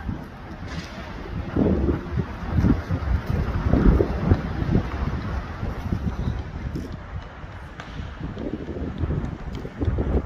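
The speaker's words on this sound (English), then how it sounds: "It's too windy." Strong wind outdoors on hilly ground at a graduation day, buffeting the microphone in continuous loud gusts and rumbles with no clear speech.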